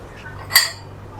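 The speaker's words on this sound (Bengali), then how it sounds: "কাপটা ধুয়ে নি" A single brief ceramic clink rings out as a tea cup is washed, a bright short chime over a low background hum.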